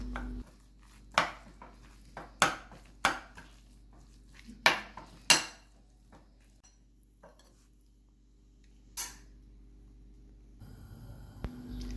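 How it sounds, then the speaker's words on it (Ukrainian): A garlic and onion mixture is stirred in a bowl, giving a handful of sharp clinks and scrapes spaced irregularly across a quiet kitchen, with no talking. "І змішуємо цю суміш до однорідної маси."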